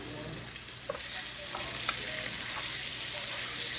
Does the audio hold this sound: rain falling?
no